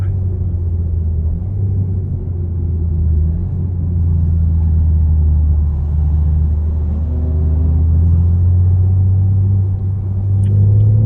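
Cars lap the track at Sonoma Speedway during a BMW driving school session in an M3, a loud, steady engine rumble that swells and shifts in pitch as they go by, with no talk.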